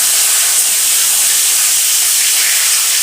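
Tomatoes hit hot oil tempered with cinnamon, cardamom and cloves, setting off a loud, close, steady sizzle that hisses evenly throughout.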